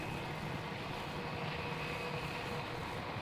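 Qantas airliner on its takeoff roll from runway 16 at Melbourne Airport, a steady, distant engine roar with a low rumble that holds level throughout, heard alone.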